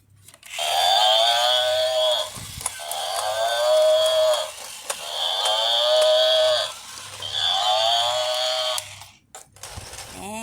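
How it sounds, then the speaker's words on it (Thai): A toy cow plays a recorded mooing sound, four long drawn-out moos in a row separated by short pauses, loud and close with a faint mechanical hum underneath. "นี่วัวตัวนี้ร้องมอมอเหมือนกันไหมนะ"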